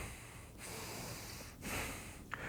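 Short, quiet sniffs through the nose, a few breathy intakes with brief pauses between them.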